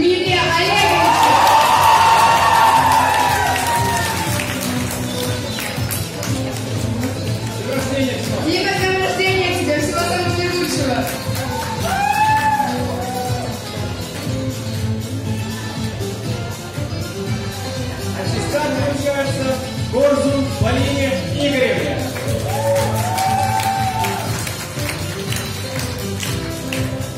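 Applause at a school graduation ceremony: a crowd claps steadily throughout, with an announcer speaking over it and occasional cheers rising from the audience.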